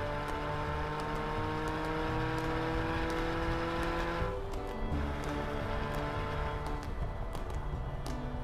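Engine of a 2012 Porsche 911 Carrera GTS B59 Edition hums with a steady harmonic tone that drops briefly as it shifts, then resumes, moderately loud and heard alone.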